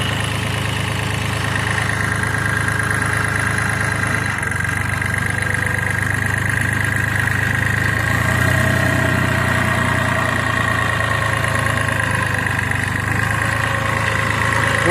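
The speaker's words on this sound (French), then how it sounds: "Je vais remettre le tracteur dans le garage" A tractor engine runs steadily nearby, a continuous low rumbling drone with a slight shift partway through.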